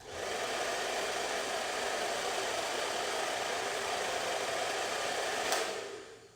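A hair dryer with a diffuser attachment runs on low heat and low speed, giving a steady, close, breathy whoosh that holds evenly, then cuts off abruptly near the end.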